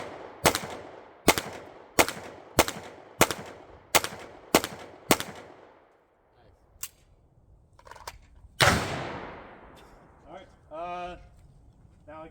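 A handgun fires a string of shots at a shooting range during a carry-permit qualification, eight sharp, evenly spaced reports in quick rhythm, then quieter range noise, a loud burst and faint voices.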